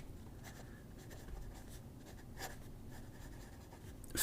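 A fountain pen with a fine-medium Sailor nib scratches across paper in a faint, close, dry chalky rasp of irregular strokes, heard alone against quiet room noise.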